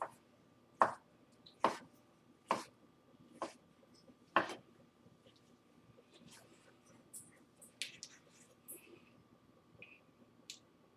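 Knife chopping through about four rolled-up ham slices on a board: five or six distinct, fairly close cuts in the first half, then sparse lighter taps and small clicks, with no talk.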